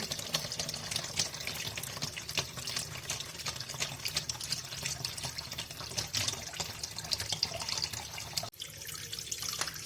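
Water runs steadily from a tap into a container, a continuous close splashing rush with a brief interruption near the end, no voices.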